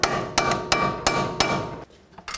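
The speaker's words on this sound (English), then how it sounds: "Watch out for the ABS wire when you hammer this bottom one." Six loud metallic hammer blows at an even pace drive the bottom strut bolt out of the steering knuckle on a 2007-2010 Chrysler Sebring front strut assembly, with no talk.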